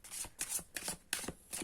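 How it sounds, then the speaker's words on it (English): Tarot cards shuffled by hand in several quick riffling bursts with brief pauses between, crisp and close but fairly quiet, with no one talking. "Let me shuffle the cards a bit."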